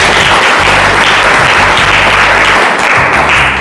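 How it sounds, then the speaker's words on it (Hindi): A church congregation claps together in steady, loud applause during a Hindi-language worship service, with dense continuous clapping from start to finish and no talk over it. "ताली तो बजा दे करो"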